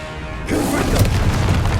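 Confringo blasting spell explosion in Hogwarts Legacy, a sudden burst that kicks in partway through and holds as a dense, loud crackling rumble.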